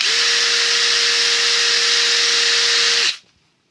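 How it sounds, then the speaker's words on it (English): A brushless power drill whirs at a steady high speed for about three seconds, close and loud, then spins down and stops. "let's go with a brushless power drill"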